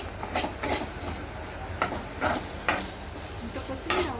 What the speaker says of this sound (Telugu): ఇప్పుడు మనం తరిగి పెట్టుకున్న కొత్తిమీరని కూడా వేసేసుకొని మొత్తం కలిసేలాగా కలిపేసుకోండి